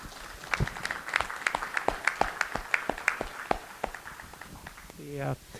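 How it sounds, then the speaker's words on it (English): Modest audience applause for three presenters at a tissue engineering talk, a run of separate claps at moderate distance that thins out over several seconds before a voice begins at the end. "I'd just like a round of applause for our three presenters."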